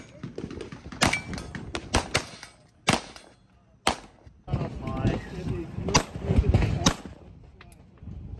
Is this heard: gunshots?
yes